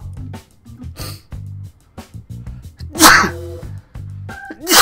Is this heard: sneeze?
yes